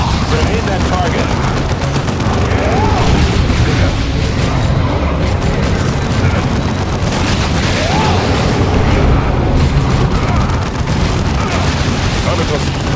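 Grenade blasts and battle noise in the strategy game Warhammer 40,000: Dawn of War 2, a steady loud din of explosions and gunfire with unit voices speaking over it.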